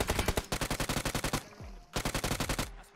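Continuous automatic gunfire in PUBG Mobile on the Erangel map: rapid evenly spaced shots ring out in a long unbroken burst, pause briefly, then resume in a second sustained burst, loud and close with no talking.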